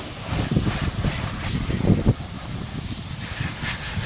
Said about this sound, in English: let's rinse this off my pickup